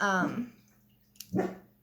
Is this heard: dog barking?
yes